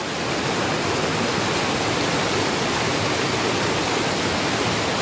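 Fast stream water rushes continuously over a rocky Konkan creek bed, a dense, loud, unbroken roar with no pauses and no voices.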